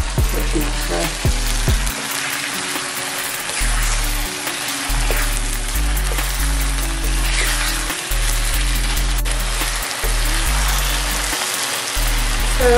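Yoghurt-marinated chicken pieces stir frying in oil on a medium flame, a loud continuous sizzle and crackle with rhythmic low thumps and scrapes from stirring, heard close up with no talking.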